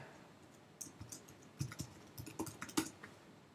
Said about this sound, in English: I need to type in my password.